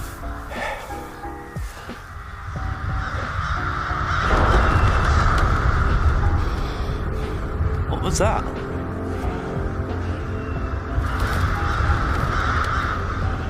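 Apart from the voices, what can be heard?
crows cawing in a Vikings TV episode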